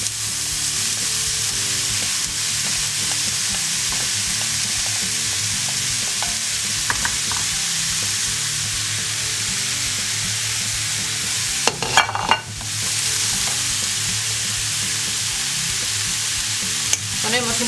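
Onions and leek fry in a pan with a continuous close sizzle, while occasional scraping stirs and one louder clatter of the utensil cut through midway.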